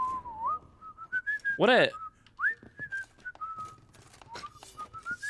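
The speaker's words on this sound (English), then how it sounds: "Guy's just whistling and smoking." A man whistles a wandering tune in the video game The Witcher 3, with clear melodic notes near the listener and a player voice briefly speaking over them.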